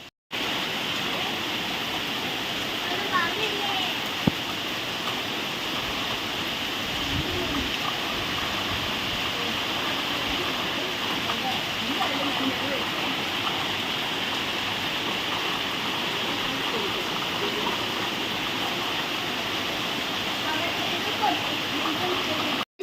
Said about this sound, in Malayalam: അപ്പോൾ ഇവിടെ ഭയങ്കര മഴയാണ്.